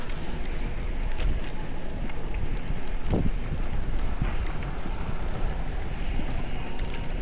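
Wind roars steadily past a rider on a folding bike along a road near the Philippine Arena, a dense rushing buffet that holds continuous and fairly loud throughout.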